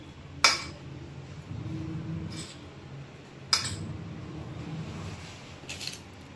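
Chana chaat with coriander leaves is stirred in a bowl. A utensil clinks sharply twice against the bowl, with softer scraping and mixing sounds in between, and there is no talking.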